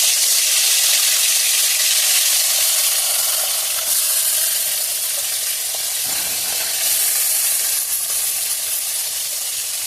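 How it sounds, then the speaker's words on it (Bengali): Chital fish heads fry in hot oil with a steady, loud, broadband sizzle and hiss that continues without pause, easing only slightly in volume toward the end, with no talking. "এবার মাছের মাথাটা দিয়ে দিই"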